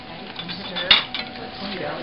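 Saffron risotto being stirred in a pot, with a brief clink of spoon against the metal near the middle and soft scraping before and after, close by and fairly quiet.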